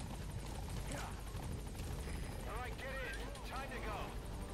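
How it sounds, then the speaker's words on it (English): A helicopter in Metal Gear Solid V approaches a landing zone, its steady rotor drone and whine filling the background with a constant, moderately loud hum throughout. "there's LZ where the helo's going to land"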